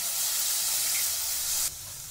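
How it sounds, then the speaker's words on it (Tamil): Paneer sautéing in a pan for carrot paneer laddu gives a steady, close frying hiss that drops off abruptly near the end. "நல்லா வதக்கிக்கலாம்"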